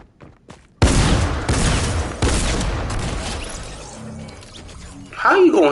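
Gunfire bursts in the Fortnite video game, a loud blast at about the first second followed by a rapid volley and a second burst, fading into quieter game noise.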